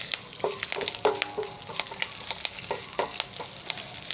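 Cumin seeds and curry leaves frying in hot oil for an Andhra-style gongura chutney, giving a steady crackling sizzle broken by sharp pops and spatters, loud and close throughout.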